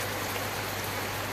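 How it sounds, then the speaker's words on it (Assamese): Heavy rain falls outside as a dense, even hiss of steady downpour, constant and close throughout the short stretch, with no voices. "ইমান বৰষুণ দি আছে বাহিৰত মানে কাৰো মাত কোনেও নুশুনে"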